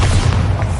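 A Bombarda spell explosion in Hogwarts Legacy, a short, loud, deep boom with a rumbling body that fills the whole moment.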